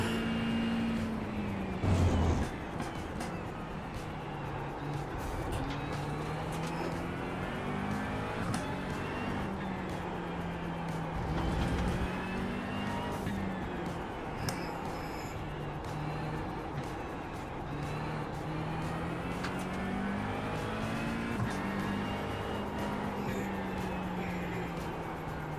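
Race cars lap the Sachsenring in a sim racing game, engines droning steadily and shifting pitch through corners, a faint continuous roar with passing cars.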